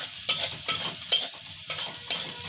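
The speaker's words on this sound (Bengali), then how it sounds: "ভালো করে আগে সবজিটাকে ভেজে নেবে" Vegetables frying in a pan for Bengali dal, a soft continuous sizzle broken by five sharp scraping stirs of a spoon at a regular pace, close and clear with no talking.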